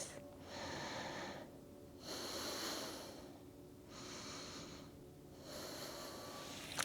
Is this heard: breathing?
yes